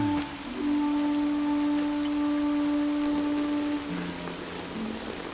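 Heavy rain pours steadily as a dense, loud hiss of drops beating on surfaces, with a low sustained musical drone running beneath it.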